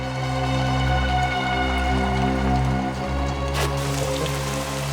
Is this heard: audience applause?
no